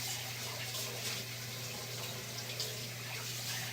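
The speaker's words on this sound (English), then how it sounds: "Let me rinse out my bowl." Tap water runs steadily into a kitchen sink while a bowl is rinsed during lasagna making, a continuous close hiss and splash with no talk.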